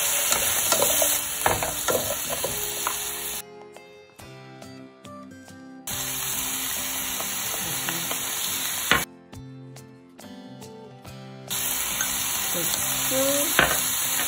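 Zucchini stir-fries with salted shrimp in a hot pan, a loud, crackling sizzle with scraping stirs, cut by two short, quieter pauses before the frying resumes.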